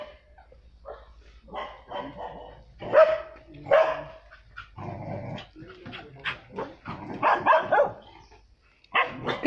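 A dog at a home barks repeatedly at close range, loud irregular barks and growls scattered across several seconds, with no clear speech among them.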